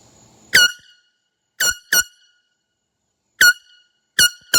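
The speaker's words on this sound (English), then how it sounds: "Today I'm testing the air horn again. Small size." Small Ozark Trail handheld air horn sounding five short, loud blasts with pauses between them, bright and piercing, with no other sound in between.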